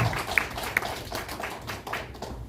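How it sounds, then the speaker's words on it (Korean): Applause from an audience at a ceremony, a short stretch of mid-level clapping with a few distinct sharper claps. "큰 박수 부탁드립니다"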